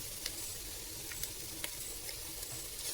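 A home-style fried dish is stirred in a pan after chili sauce and soy sauce go in, sounding as a steady near sizzle with a few sharp scraping clicks from the spatula and no talk.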